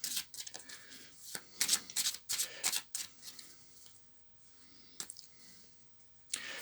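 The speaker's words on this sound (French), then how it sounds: "je vais tirer quelques cartes aussi avec le tarot des anges pour voir un petit peu ce qu'ils veulent nous communiquer" Angel tarot cards being shuffled and drawn, soft close flicks and riffling bursts of card stock, quiet and intermittent with a pause before a final rustle.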